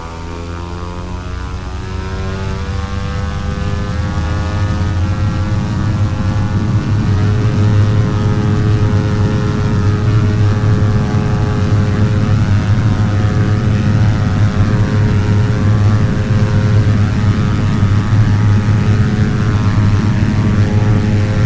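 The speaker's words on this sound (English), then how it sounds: "Let's run these engines up and get in the air." Antonov An-26 twin turboprop engines running up in Flight Simulator X, a loud, steady propeller drone with strong low harmonics that builds slightly and then holds for the whole stretch, with no talk.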